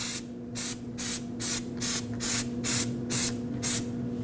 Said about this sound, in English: make sure you coat this hub with some anti-seize